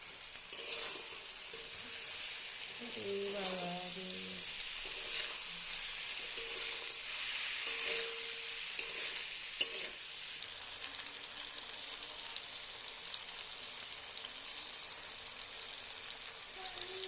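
Noodles frying in a pan with salt and turmeric, a constant bright sizzle under irregular scraping stirs, with a faint voice surfacing briefly early on.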